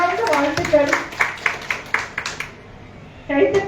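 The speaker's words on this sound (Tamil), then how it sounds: "கைத்தட்டு" An audience claps at a Tamil debate-forum gathering in Chennai in brief ragged bursts that fade out, then return, while a speaker's voice carries over the clapping.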